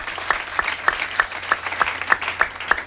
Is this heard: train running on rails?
no